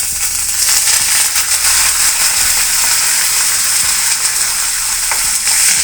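Dried red chillies and curry leaves sizzle loudly in hot oil in a pan for a prawn roast, a dense continuous crackle with occasional sharper pops and stirring clatter, no talking.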